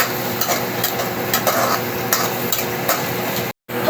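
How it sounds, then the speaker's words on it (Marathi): Chopped onion browning in hot oil in a pan, stirred steadily with a spoon; a constant close sizzle with regular scraping strokes, a brief cut near the end and no talking. "कांद्याला आपण थोडं ब्राऊन करून घेऊया।"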